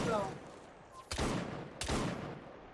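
Gunshots in a timed shooting challenge in Assassin's Creed Syndicate, two sharp separate cracks about a second apart after a brief voice, each with a short decaying tail.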